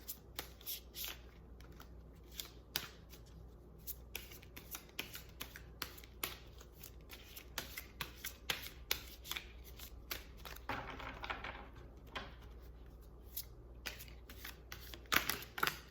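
Tarot cards are shuffled by hand in repeated crisp riffles and sharp slaps, close up, with irregular bursts throughout.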